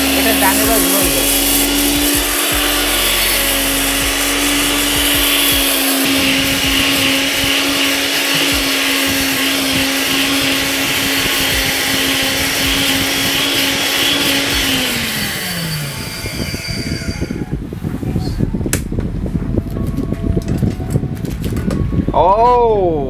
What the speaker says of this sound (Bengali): আচ্ছা জিরা গুঁড়ো হচ্ছে, এটা ডানে বা ঘুরে যাবে।